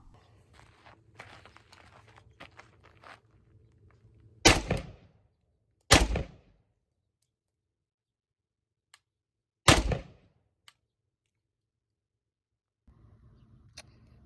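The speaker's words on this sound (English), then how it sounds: "the gunfire actually cuts off the microphone on my phone" Three sharp, loud gunshots from a Zastava M70 AK rifle with an ALG AKT trigger ring out at a shooting range with long gaps between them, each with a brief echo, then near silence.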